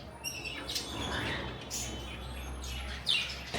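Pet shop birds, including java sparrows and conures, chirp and tweet in short scattered calls over a steady low background hum, with a few sharper squawks near the end.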